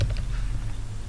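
Typing on a laptop keyboard during a Microsoft Word lesson: a steady run of soft, close key clicks with no voices over them.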